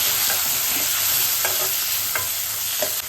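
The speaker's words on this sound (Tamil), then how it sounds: "இந்த நேரத்தில் நம்ம தக்காளி சேர்த்துக்கலாம். தக்காளியும் நல்லா வதங்கும்" Tomatoes and shallots sauté in hot oil for radish sambar, a loud, close, continuous sizzle with a few soft stirring scrapes and no talk.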